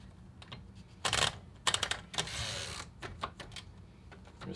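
A 1960s Royal Safari typewriter being test-typed: irregular bursts of sharp keystrikes and clacks, with a brief mechanical carriage or paper-release rattle in the middle, close and fairly quiet with no talking.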